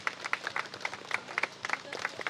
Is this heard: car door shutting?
no